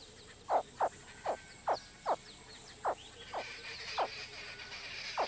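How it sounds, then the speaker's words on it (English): Baby crocodiles croak from inside their eggs before hatching, giving about ten short, evenly spaced chirping calls over faint insect-like background hiss, fairly close and clear. "In early March, strange croaking sounds fill the air."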